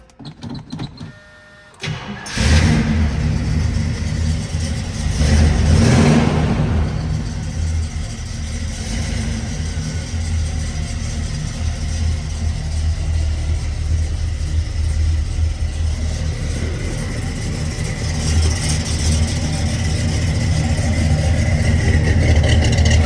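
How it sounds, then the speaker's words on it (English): A 1971 Oldsmobile Cutlass Supreme engine cranking briefly and catching, revving once, then settling into a loud, steady, close idle that runs on alone. "I'm going to start the car. I want you guys to hear it."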